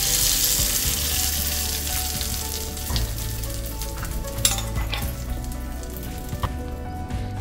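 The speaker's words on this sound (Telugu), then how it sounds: "ఇప్పుడు ఈ పోపు మొత్తం బట్టల్లో వేసేసుకుందాం" Hot tempering oil sizzles steadily as it is poured into a mixed-vegetable roti pachadi, a loud, close, continuous frying hiss with occasional crackles and a utensil tap, no one talking.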